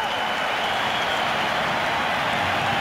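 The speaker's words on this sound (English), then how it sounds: "Montreal fans applauding the effort" Montreal fans in a soccer stadium applaud during an Impact versus Red Bulls match, a dense, steady wash of clapping from a large crowd throughout.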